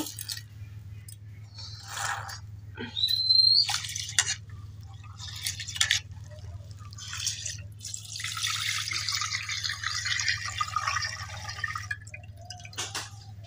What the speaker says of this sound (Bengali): এই তো চালের সাথে আমি ডাল টাল সব একসাথে ধুয়ে নিব।